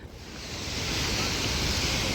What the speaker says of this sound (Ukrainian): Хвилі присутні, серфери також в Атлантичному океані присутні.